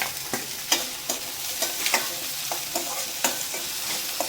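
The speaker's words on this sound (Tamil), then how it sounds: "இப்போ நல்லா வெங்காயம் வதங்கிருச்சு" Onion, tomato and crushed ginger and garlic sautéing together in a pan, a continuous close sizzle punctuated by regular scraping strokes of a spoon against the metal, roughly every half second.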